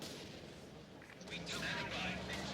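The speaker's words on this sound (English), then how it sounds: "Looks like Jeremy got the mortar, and he's fighting some conscripts there." Mortar fire in the World War II strategy game Company of Heroes 2, on a winter map, with a steady rumble of battle and gunfire that grows louder partway through as heavier blasts come in, over faint background voices.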